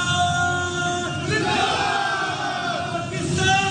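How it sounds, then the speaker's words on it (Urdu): Young men in a gym chant Pakistan Zindabad and Arshad Nadeem's name together, a loud, rhythmic group shout with voices rising and falling in repeated slogans. "ارشد ندیم اور پاکستان زندہ باد کے نعرے لگائے"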